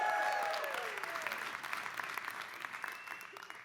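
Crowd applause at a stand-up comedy show, a broad burst of clapping from the audience with scattered cheers and a few whistles early on, gradually thinning but still steady toward the end.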